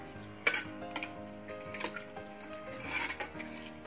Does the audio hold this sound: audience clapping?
no